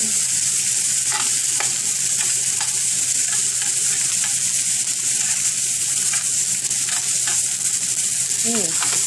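A rib eye steak sears with garlic in a hot pan, a steady loud sizzle running throughout, with a few light scrapes as the garlic is moved around.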